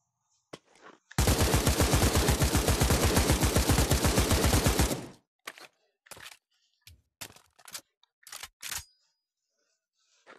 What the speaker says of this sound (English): The first gun will be an AK-47.